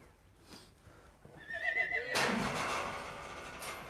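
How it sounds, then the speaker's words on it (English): A horse at a livestock auction lets out a loud, close whinny that rises and trails off, followed by a burst of rustling, clattering barn noise. "Now, here's a pretty horse."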